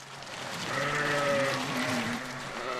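A sheep lets out one drawn-out, wavering bleat, fairly close and loud, that swells in the middle and trails off over a few seconds.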